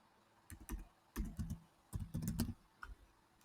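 Keystrokes on a computer keyboard, typed in short uneven bursts with pauses between them, close and fairly quiet, with no talking over it.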